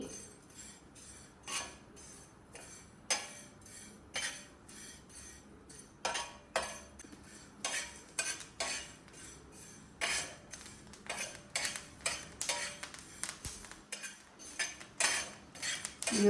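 Curry leaves and spices dry roasting with oil in a pan, heard as a close, busy run of metal spatula scrapes and clinks against the pan. The strikes come irregularly and go on throughout.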